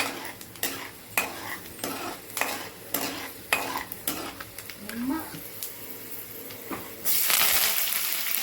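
Vermicelli is stirred and roasted in a pan until brownish for shavige uppittu, with repeated close scraping of a utensil against the pan under a steady low sizzle, while a person talks intermittently.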